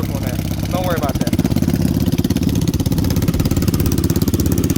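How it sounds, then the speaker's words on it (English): A Lifan KP Mini motorcycle engine, untuned, held at full throttle: a loud, close, steady buzzing drone with a rapid pulsing rhythm throughout, rising slightly in the first second, with a voice briefly audible underneath. "That's full throttle because it's still not tuned."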